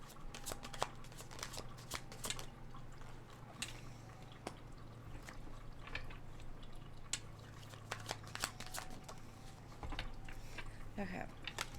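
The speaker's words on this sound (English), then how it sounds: "Let's pull some cards." Tarot cards shuffled by hand at close range: a soft, steady run of riffling and flicking for about twelve seconds, with occasional sharper snaps and no voice over it.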